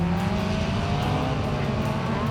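Race car engines roar continuously at close range, a steady loud drone with shifting pitch as several cars run together on the track.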